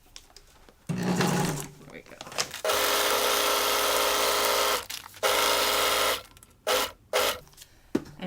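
Feed sack fabric stitched into a tote bag on a sewing machine, running in a straight stitch with long steady buzzing bursts separated by brief pauses, with a voice talking in between.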